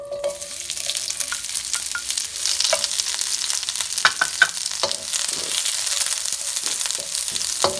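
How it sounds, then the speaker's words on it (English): Canadian bacon and pineapple fried rice sizzles and crackles steadily in a hot pan, a dense close frying hiss broken by sharp clinks and scrapes of stirring throughout. "I love the sizzle."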